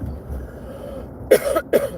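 Two quick, sharp coughs close by, following a stretch of quiet room noise.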